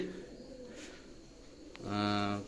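Adult Teddy pigeons coo nearby, a soft rolling call rising clearly near the end, with someone speaking at the start.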